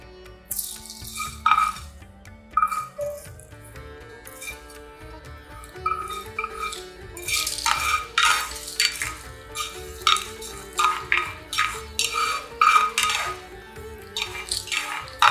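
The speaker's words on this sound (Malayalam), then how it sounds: "മിശ്രിതം ഒരു കടായി അല്ലെങ്കിൽ വോക്ക് പാനിലേക്ക് മാറ്റുക." Potato masala for dosa being stirred in a kadai or wok: a spoon scrapes and clinks against the pan over a soft sizzle, in uneven repeated strokes that grow busier toward the end.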